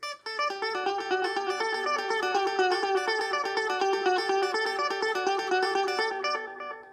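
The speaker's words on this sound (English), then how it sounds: "his main delay is the dotted eighth delay" An electric guitar rings out a sustained, rhythmic figure through dotted eighth and dotted quarter delays, the repeats stacking into a dense shimmering wash, loud and alone before fading at the end.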